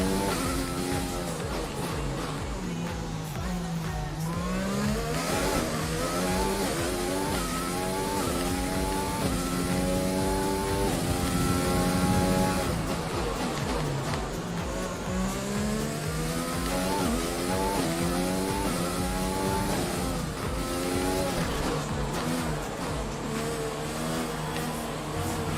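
Formula One car engine from the F1 2020 racing game, lapping the Singapore circuit, screaming at high revs with rapid upshifts and downshifts, rising and falling continuously and loud throughout with no talk.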